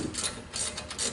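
A ratchet clicks in quick bursts while removing Allen bolts from the brake on a 2006 BMW 330i. Each burst is short and close, with no talk.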